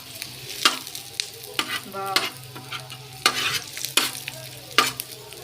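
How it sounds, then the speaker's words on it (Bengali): Fish frying in a pan, with bursts of sizzling and stirring scrapes recurring every second or so, close and moderately loud, with no talking. "মাছটাকে সুন্দর করে ভেজে নিন"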